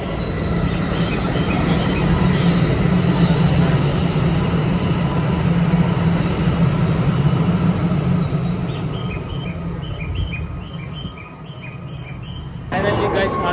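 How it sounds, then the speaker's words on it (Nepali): A commuter train pulls into a station in Tokyo with a heavy rolling rumble and screeching wheel squeals. It then eases to a quieter hum before a short burst of noise at the end. "ट्रेन पनि आइसकेको छ"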